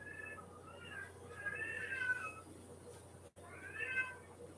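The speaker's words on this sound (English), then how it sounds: "I'm trying to break him of that meowing constantly for attention" A male house cat meows insistently for attention in the middle of the night, giving a drawn-out cry, a few shorter meows, then another after a brief gap, close by against a quiet indoor hum.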